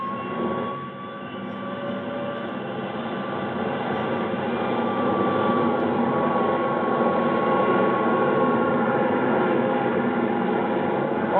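An Air National Guard jet taking off, staged as a 1957 radio drama effect: a steady, broad engine roar that swells slightly and holds loud throughout, with no voices over it.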